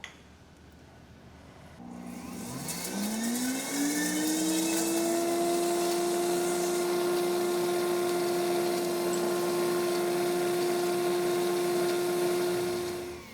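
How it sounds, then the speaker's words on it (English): A countertop blender spins up and runs steadily, blending basil vinaigrette with olive oil; the motor whine rises in pitch as it starts, then holds a loud, continuous drone close by with no talking. "If you have a blender like we're using today, it's going to be a little bit thicker, and that's okay."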